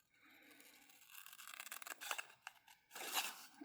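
Scissors cut paper for handmade cards, a faint, close series of crisp snips and rustles that grows busier toward the end, with no talk.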